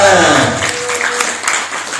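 An audience at an Islamic religious gathering breaks into applause, with a broad wash of clapping over two seconds, partly mixed with a voice and some tonal sound at the start.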